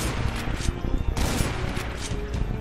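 In Doom with the Project Brutality mod, a shotgun fires repeatedly at a demon, the dense booming blasts packed close together and loud, with game noise running throughout.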